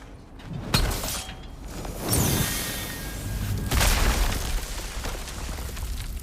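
A heavy door mechanism in God of War Ragnarok grinds and booms open with a few deep, rumbling bursts and whooshes over a low, continuous background.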